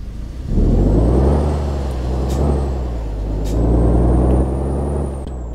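Kenworth T2000 truck engine in gear in Euro Truck Simulator 2, a loud deep diesel drone that swells and settles in steady waves, with brief hissing air bursts on top.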